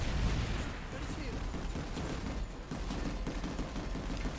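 Dense gunfire in the Planetside 2 video game, a constant crackle of shots at moderate level under game noise, with a voice speaking over it.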